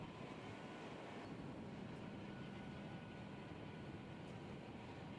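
Idling steam locomotive, an old mogul in Railroads Online, gives a steady low rumble with a faint hiss, constant and unchanging with no voices.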